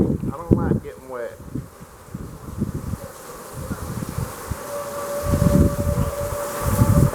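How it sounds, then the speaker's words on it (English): A tornado siren in Ada, Oklahoma, sounds as a faint, steady distant tone in rainy weather, with a person speaking briefly near the start and close rustling and handling noises over it. "There goes the siren."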